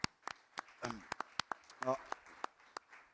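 A scattered round of clapping after a call for applause at a New York vaccination briefing, sharp separate claps, fairly faint and thin, without a full crowd roar.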